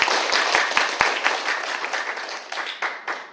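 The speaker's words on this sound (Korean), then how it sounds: "큰 박수로 맞이할게요." Audience applause greeting a project team at a corporate social-contribution day event in a district office hall, a dense wash of clapping with a few sharp near claps at the start, fading gradually toward the end.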